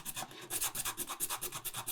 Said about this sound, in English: I'm just going to get some sandpaper and take these high points out of the outlet funnel.